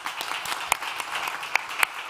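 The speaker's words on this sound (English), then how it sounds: "Give them a well-deserved applause." A conference-stage audience breaks into dense, steady applause, with many overlapping claps and a few sharper ones standing out, heard from a moderate distance.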